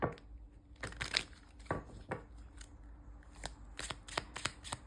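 Oracle cards being shuffled for a tarot reading, giving a series of crisp riffling and slapping bursts at close range, irregular in rhythm, with no voices.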